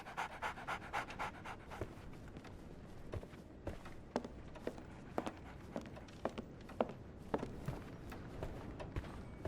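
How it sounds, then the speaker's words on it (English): A dog pants rapidly and steadily in the video game Sherlock Holmes The Awakened, close and continuous, with faint footstep-like taps mixed in. "So, Barnes has a dog now."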